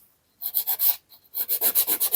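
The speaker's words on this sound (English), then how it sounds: "I'm gonna first file my free edge" A 180 grit file rasps across the free edge of a hardened gel nail, a short burst of strokes, a pause, then a steady run of rhythmic back-and-forth strokes, close and clear.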